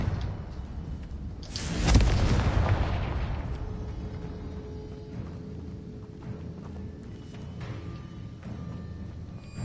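A Confringo spell explosion in the video game Hogwarts Legacy erupts as one loud, close blast with a sharp attack, then rumbles and decays slowly into low ambient game noise.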